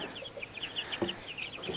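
Young cockerels clucking and calling in a small run, short chirpy cluck notes scattered at close range over a soft outdoor background.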